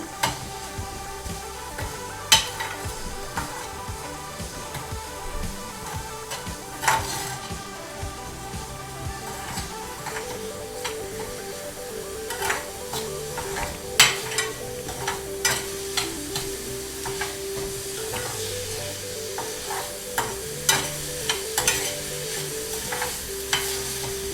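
Sliced onions and boiled potatoes sizzle steadily in a frying pan for a sooji breakfast dish, with repeated scraping stirs and clinks of a spatula against the pan; no talking.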